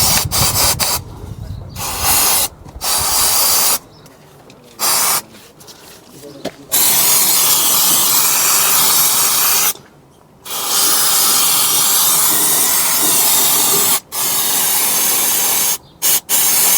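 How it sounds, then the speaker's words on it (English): Brake cleaner sprays in long, loud hissing bursts onto a car's brake hose fitting, broken by short pauses between the blasts. "What I'm going to do is get some brake cleaner"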